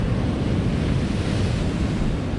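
Sea waves break and wash steadily onto the Holderness coast at Tunstall, a loud continuous roar of surf mixed with wind buffeting the microphone, with no voices.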